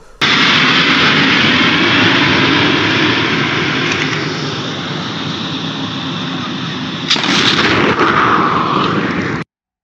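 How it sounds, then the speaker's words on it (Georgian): A Georgian Su-25 attack jet roars loudly and continuously, with a sudden heavy blast of a high-explosive bomb near the end before the sound cuts off. "ქართული Su-25 და ფუგასურ ბომბებს უყრის და ეს აფეთქების ტალღაც კარგად ჩანს"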